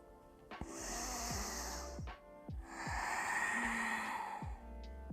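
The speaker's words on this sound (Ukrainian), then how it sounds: "Ще вдих." Deep breaths drawn in and let out during a Ukrainian yoga session of pelvic-floor exercises, two long, close, airy inhale-exhale cycles with low snoring-like rasps in between.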